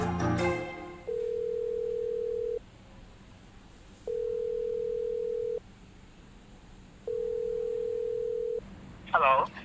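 A telephone sounds while a call is being placed: three long, steady tones separated by equal pauses. Brief voices are heard at the very start and end.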